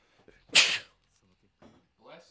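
A single loud, sharp human sneeze bursts out near the mic, followed by quieter breaths and brief speech sounds while the Yakuza 0 game plays on.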